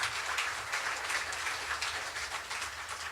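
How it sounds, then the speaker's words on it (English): Steady applause from an audience at a retirement-village spring show, a continuous even patter of many hands clapping at moderate volume throughout. "give him a nice round of applause"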